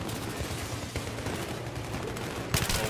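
Battlefield 3 gunfire, a dense, continuous stream of loud automatic shots with a heavier burst near the end, crowding the whole clip in a busy in-game battle.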